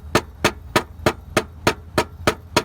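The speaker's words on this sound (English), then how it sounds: "we're going to use a little mallet to tap it back down" A small mallet taps an alternator on an Acura TL 3.2 back into place, eight sharp, evenly spaced knocks ringing out close and clear with no talk.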